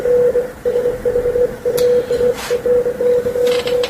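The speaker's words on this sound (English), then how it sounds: "That is a secret sound on shortwave frequencies heard around the world that started with the Iranian war." A mysterious shortwave radio signal, not Morse code, sounds as a loud repeating electronic tone in short irregular bursts over a hissing, crackling static background, with occasional noise spurts.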